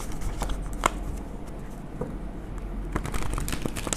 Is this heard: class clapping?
no